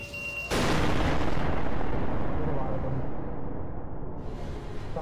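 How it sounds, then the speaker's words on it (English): Grenade blast in the game SCP Secret Lab: a sudden loud boom after a short quiet lead-in, followed by a long rumbling roar that slowly fades, with a voice faintly present. "I'm trying to grenade them."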